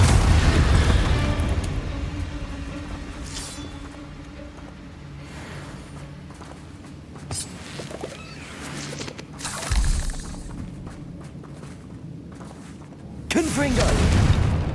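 Confringo blasting curses burst in Hogwarts Legacy: a heavy booming explosion opens the clip, a second flares up in the middle and a third crashes in near the end, with rumbling game ambience between them.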